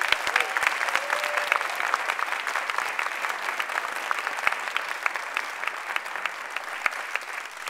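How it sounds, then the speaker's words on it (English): A meeting audience at a New Mexico Democratic Party state central committee gathering gives a big round of applause, a sustained, moderately loud stretch of clapping with a few sharper individual claps standing out. "give Mr. Pete Barreras stand up, a big round of applause"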